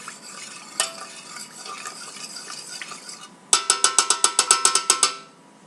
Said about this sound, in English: Stir that up a bit. Kind of like to stir it a little bit in between.